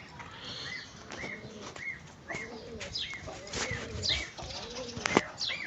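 Pigeons in a loft give soft, repeated coos while wings flap and flutter in short bursts, close by and busy, with no talk.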